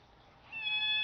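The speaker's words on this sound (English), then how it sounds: "that's my cat in the background" A single cat meow rises faintly out of a quiet room, brief and soft, heard alone with no talking.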